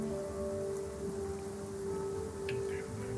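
Steady soft rain patters across an outdoor campsite near a large tree in a video game, a constant even hiss with faint drip-like ticks, quiet and without talk.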